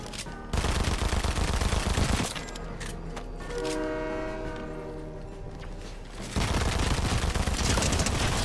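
Rapid automatic gunfire from Gwenpool's SMGs in Fortnite, loud bursts before and after a quieter stretch with tonal game sounds in the middle.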